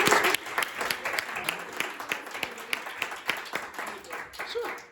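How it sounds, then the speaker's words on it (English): A small class of students claps for a classmate, a moderate round of applause with distinct individual claps, starting strong and continuing unevenly with some voices underneath. "So guys, now please round of applause for Brandon."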